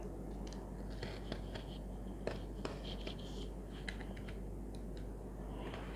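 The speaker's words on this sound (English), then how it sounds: "I'm using my cutter here." A cutter slicing off excess origami paper, with faint scratchy strokes and small ticks against a quiet low hum, soft and close with no speech.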